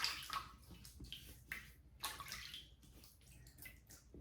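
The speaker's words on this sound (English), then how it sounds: "So I'm gonna wet the face and we'll get started." Quiet close splashing of water as the face is wetted before a shave, several soft irregular splashes and drips in a sink, with no talk.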